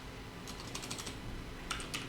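Fingers typing on a computer keyboard, with two short bursts of quick keystrokes separated by a pause, close and fairly quiet over a faint background hum.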